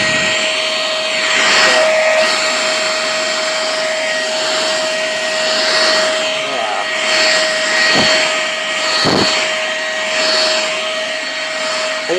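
An elezon F800 corded vacuum cleaner, 500W with 18KPa suction, runs with a loud, steady whine and airy roar close by, with small swells and dips as it is moved.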